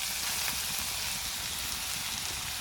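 Grated potato frying in hot oil with a black cumin tempering, giving an even, loud, hissing sizzle that holds steady throughout without pauses.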